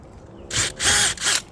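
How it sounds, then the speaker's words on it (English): A power drill pre-drills holes to mark placement for a patio roof riser bracket, in three short whirring bursts separated by brief pauses. "just do a little pre-drill so I can mark my holes here"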